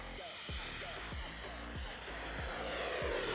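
A twin-turbine radio-controlled jet airplane in flight gives off a steady loud turbine roar and whine that holds throughout with slight swells, heard from a distance with no talk.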